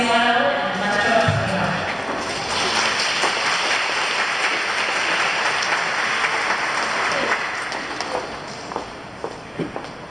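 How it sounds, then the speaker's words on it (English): An audience at a youth orchestra spring concert claps in a dense, sustained ovation that swells early, then slowly thins to a few scattered claps, with voices faintly heard under it. "please give a round of applause for the CSYO"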